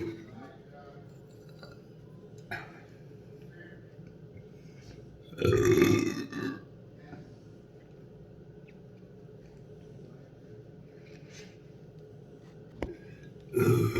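A woman sitting at a makeup table lets out a loud, drawn-out burp mid-clip, followed by a smaller one. Another burp starts right at the end. Quiet room noise and the faint clink of small items fill the gaps between them.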